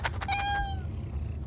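A pet cat gives a single clear, drawn-out meow close by, falling in pitch, after a couple of short soft sounds, then low room noise with no talk.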